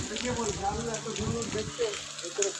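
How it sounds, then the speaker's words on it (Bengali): Light drizzling rain gives a soft, continuous patter, with a person's voice murmuring over it through most of the moment. "এখন বৃষ্টি একটু কমেছে, তাও করছে ঝিরঝিরি বৃষ্টি এখনও করছে"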